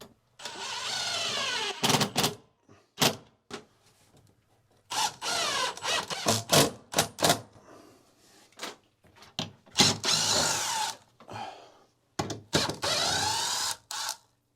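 A power drill drives two screws back into a shower head fitting during a bathroom remodel, sounding in several short whirring bursts with pauses between them, close and fairly loud.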